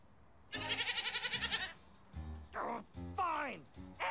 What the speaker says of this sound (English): The goat runs away.